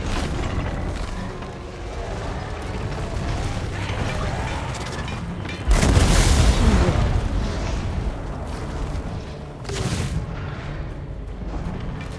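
Cannon fire in the strategy game Total War: Warhammer 2 amid battle noise, with one loud heavy boom midway and a lighter blast later over a continuous rumbling din.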